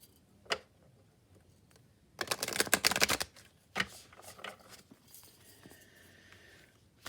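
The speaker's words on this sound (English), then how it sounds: "And one more hard shuffle." A quick tap, then a loud rapid riffle of tarot cards in a hard shuffle lasting about a second, followed by softer scattered clicks and rustles.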